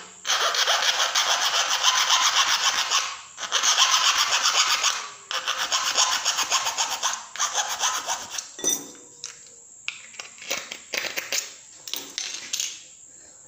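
A metal hand file rasps across a drilled plastic deodorant cap, in long, steady, close strokes repeated in several runs with short pauses between them.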